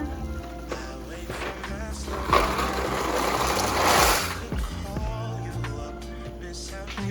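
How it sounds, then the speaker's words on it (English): Cavatappi noodles dumped into a pot of boiling water on a home stove, a rushing splash and sizzle that swells for a couple of seconds over the steady bubbling, then settles back. "I'm just gonna dump that in my water."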